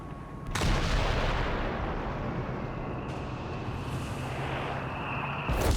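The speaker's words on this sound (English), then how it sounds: "He's been getting some pretty solid hits with the howitzer as well" Howitzer artillery fire in Company of Heroes 3, a dense continuous barrage of booming blasts and rumble that stays loud from start to finish, with a sharp onset early on and another strong hit near the end.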